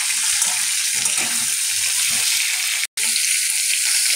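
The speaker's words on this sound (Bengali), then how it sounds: "একটু নাড়িয়ে চাড়িয়ে নেব।" Mango pieces sizzle and fry in a hot wok while being stirred, a steady broadband crackle running throughout with one brief dropout near the end; no talk.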